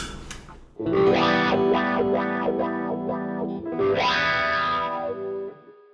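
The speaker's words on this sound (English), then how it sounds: "What they're doing there is they're using a wah pedal." Distorted electric guitar played through a wah pedal on a riff, its tone sweeping up and down rhythmically over a sustained riff, loud and without voices.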